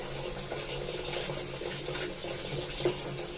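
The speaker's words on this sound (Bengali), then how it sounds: "এখন পানি দিয়ে দিচ্ছি" Water is poured onto uncooked atap rice in a cooking pot, a faint, steady, continuous trickling wash lasting a few seconds.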